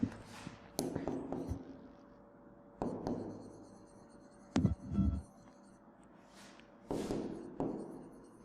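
Chalk or marker strokes scratch across a board in several short bursts during an entomology lecture on integrated pest management, with a couple of soft taps and thunks in between, close and fairly quiet.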